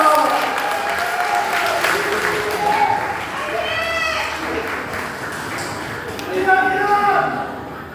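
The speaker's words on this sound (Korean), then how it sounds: "뜨거운 박수로 맞아주시기 바랍니다." A large audience applauds steadily at a Democratic Party leadership rally in Jeju, with dense, sustained clapping and crowd noise throughout and a brief swell near the end.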